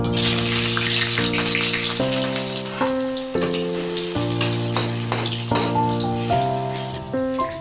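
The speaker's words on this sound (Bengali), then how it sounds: "আমি এবার কুচনো পেঁয়াজটা তেলের মধ্যে দিয়ে দিচ্ছি" Chopped onion is fried in hot oil for chicken keema chana masala, a loud, steady hiss of sizzling that runs throughout beneath prominent background music.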